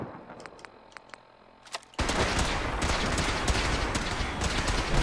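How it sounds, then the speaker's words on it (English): Minigun fire in Fallout 4, a few faint clicks and metallic taps before a sudden continuous roar of rapid automatic shots that holds loud and steady to the end. "That minigun."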